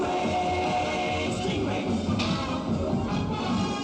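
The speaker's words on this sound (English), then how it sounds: "So this is the sound of the injector tubes." Stingray injector tubes from the 1960s Gerry Anderson puppet show give a dense, continuous rushing, whooshing texture with a low repeating mechanical throb underneath, loud and sustained, with a brief bright hiss midway.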